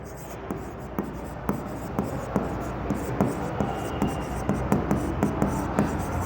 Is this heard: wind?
no